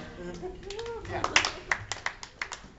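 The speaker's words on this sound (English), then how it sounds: "A smattering of applause" A sparse smattering of applause at an anime convention event, a few scattered claps rising in the second half, heard beneath ongoing talk and a voice.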